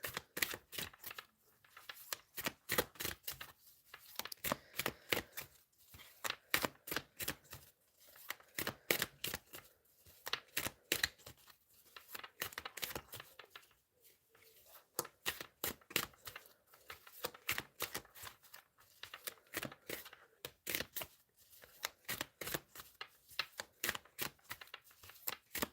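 Tarot cards are shuffled close by in repeated quick riffling bursts separated by short pauses, crisp and fairly quiet, with no talking.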